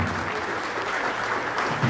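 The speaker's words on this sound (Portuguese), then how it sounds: "Gente, mais palmas," A crowd claps continuously at a São Paulo state government signing ceremony for airport investments, a thick, uniform roar of many hands sustained for about two seconds, close and loud, with no one speaking.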